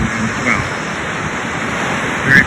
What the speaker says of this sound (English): So the waves constantly hitting the shore and slowly eroding this